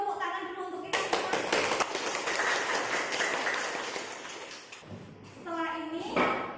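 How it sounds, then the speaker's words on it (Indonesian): A classroom of students claps together in a burst of applause lasting several seconds, with voices speaking just before and after. "Tepuk tangan dulu untuk kita semua."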